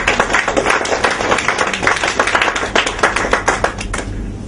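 An audience in a lecture hall claps for a professor at an Islamic propagation centre, a dense burst of many hands applauding loudly and steadily for about four seconds before tapering off abruptly at the end.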